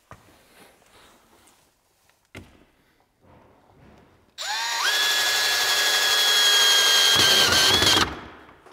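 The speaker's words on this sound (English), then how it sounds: "It'd be a lot easier, Kyle, if you would have put the screws in first." A power drill runs loud and steady for about four seconds, driving screws into the timber stringer of an open-frame staircase in a cabin. Quieter knocks and handling sounds come before it, and the whine rises in pitch as it winds down.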